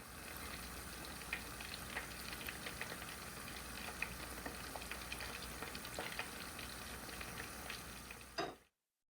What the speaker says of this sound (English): let's give those a fry.